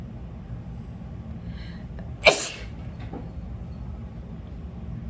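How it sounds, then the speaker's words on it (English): A single sharp sneeze bursts out against a quiet, steady background hum. "I'm gonna sneeze, hold on."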